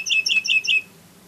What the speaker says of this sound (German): Die Heidelerche.